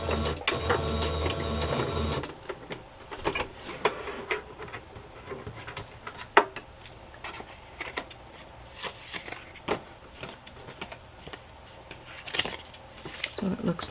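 Sewing machine stitching messily up and down on paper ephemera, a loud opening run followed by quieter intermittent bursts of mechanical whirring and clicks, with a voice speaking over it.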